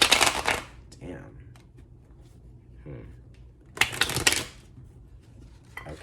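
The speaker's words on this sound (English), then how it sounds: "I just want the cards to kind of like just shuffle" Tarot cards shuffled by hand in two bursts of rapid riffling and flicking, with a few soft taps and rustles between them at close range.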